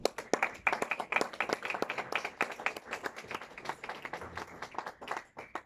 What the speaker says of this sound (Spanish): les pido un aplauso para él.